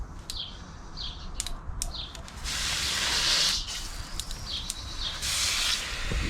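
Water runs steadily into a rinse bucket outdoors, a constant hissing spray with shifting intensity, and birds chirp faintly in the background.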